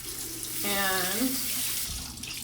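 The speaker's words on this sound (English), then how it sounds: "run it under the water and then squeeze it out" A bathroom tap runs water over a beauty blender makeup sponge, a steady close splashing stream that shifts pitch as the sponge moves under it, with someone speaking briefly.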